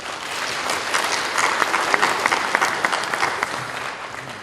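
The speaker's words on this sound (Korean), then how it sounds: "아낌없는 박수 한번 부탁드립니다" Audience at a Korean Democratic Party political rally breaks into sustained, dense applause, many hands clapping together at a steady level throughout with a few brighter claps standing out.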